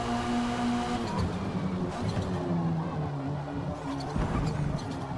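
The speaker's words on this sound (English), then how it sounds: "All of these touring cars look great though." A touring car engine in Forza Motorsport revs with shifting tones, rising and falling through gear changes at moderate loudness, with a brief dip and a fresh surge near the end.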